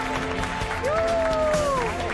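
A television studio audience on a reality show applauds, a steady wash of many hands clapping with crowd noise, while a voice rises in a drawn-out exclamation over it.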